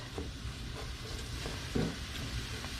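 Onions sweating in a pan for Tinga de Pollo (shredded chicken in tomato sauce), stirred now and then: a steady low sizzle with a few soft scraping stirs, one slightly louder near the end.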